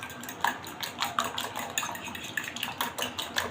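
Egg whisked with black pepper and salt in a bowl, a utensil clinking and scraping in quick, regular strokes, close and moderately loud, no talking.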